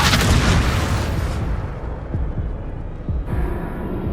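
A Confringo fire spell explodes in the Hogwarts Legacy game: a loud, broad blast followed by rumbling debris and a few sharper pops, then a brief lull and a lighter burst.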